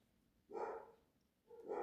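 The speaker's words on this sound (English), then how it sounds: "Dogs must be seeing some cats going by. They go nuts." Dogs bark excitedly indoors at passing cats, two loud bursts of barking about a second apart with quiet between them.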